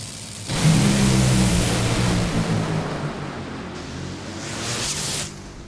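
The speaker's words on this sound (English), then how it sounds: "Final pair of Top Fuel dragsters." A final pair of Top Fuel dragsters launches down the strip at the 2022 Topeka nationals, a sudden thunderous engine blast that holds loud for a few seconds, then fades and swells again into the distance.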